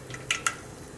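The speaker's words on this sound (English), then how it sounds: "So now you hear the popping. of the seeds." Seeds crack in hot ghee, giving two sharp, close pops in quick succession over a faint, steady sizzle.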